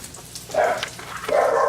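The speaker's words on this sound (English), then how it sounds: "I'm gonna have to go deal with barking dogs." Dogs bark in a house kitchen during cooking, two short bursts of barking heard at moderate distance with no talk over them.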